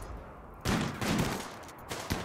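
Bursts of explosive gunfire in a RimWorld combat skirmish, a grenade blast among them: sharp loud cracks and booms at irregular intervals over a steady rumble of battle, with no voices.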